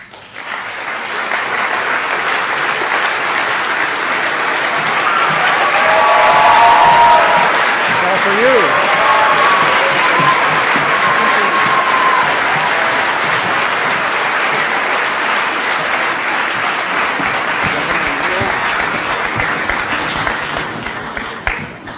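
Sustained, loud audience applause welcoming speakers to a green-future event, a dense wash of clapping from a large crowd swelling slightly in the middle and carrying on for about twenty seconds before thinning.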